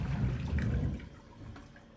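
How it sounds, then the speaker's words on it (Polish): A concealed in-wall WC cistern empties through its lifted flush valve. Water gushes and rushes loudly at first, then tapers into a softer trickle and gurgle, with no voices. "Teraz wysuwam zawór spustowy do góry i cały zbiornik opróżnia się z wody."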